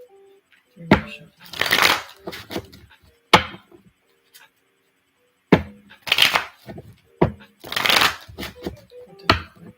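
Tarot cards shuffled close up in bursts of riffling and slapping, several quick shuffles separated by short pauses.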